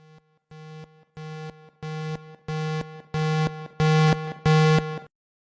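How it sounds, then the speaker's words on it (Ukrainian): A chemical alarm signal: eight evenly spaced electronic beeps, each a steady harmonic tone about half a second long, growing louder one after another with no voices. "сигнали хімічної тривоги, короткі гудки з певним інтервалом"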